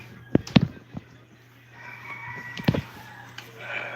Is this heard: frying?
no